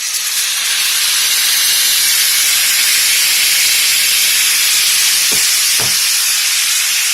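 Gravy poured into a hot pot of Haitian rice with pigeon peas gives a loud, continuous broad hiss of steam and sizzle throughout, with two brief low knocks near the end and no talking.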